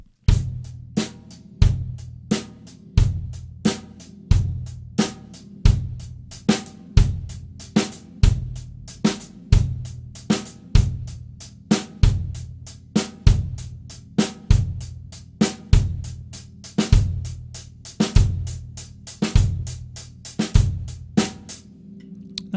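Acoustic drum kit plays a funk-rock coordination pattern. The bass drum stays steady while the snare shifts by one sixteenth note each time the pattern moves on, with a constant driving pulse for over twenty seconds, close and loud, with no voices.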